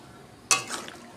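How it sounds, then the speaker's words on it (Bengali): Hot water poured into a cooking pan gives a single sudden hissing splash that flares loudly and then fades over about half a second, with no talking. "গরম জলটা ঢেলে"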